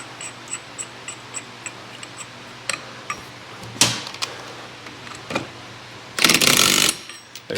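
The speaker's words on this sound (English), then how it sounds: "Grab our nut," A nut is threaded on by hand during a transmission repair for a no-low-gear fault: small metallic clicks and ticks in a loose rhythm, then a short ratcheting burst near the end, close in a quiet shop.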